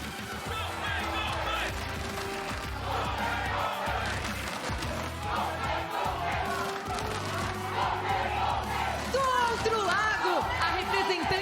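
A large arena crowd of fans at a League of Legends esports match between 100 Thieves and paiN Gaming, with loud continuous cheering and chatter throughout, swelling with whistles and shouts near the end.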